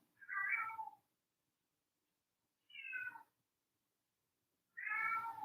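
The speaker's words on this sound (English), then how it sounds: "I also have a kitten who really wants to be doing yoga, so if you hear him meowing" A small kitten meows three times, each cry separated by a couple of seconds of silence, close by and clear.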